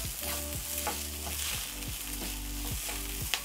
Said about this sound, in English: I'll add 1 seasoning cube, paprika, stir in.